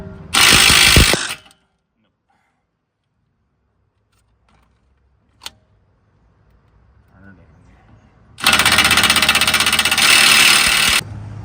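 Rapid ratchet clicking in two loud bursts, at the start and again near the end, while loosening a rusty 36 mm axle nut on a 2005-2014 Ford Mustang wheel bearing, with quiet near-silence between and a single sharp knock.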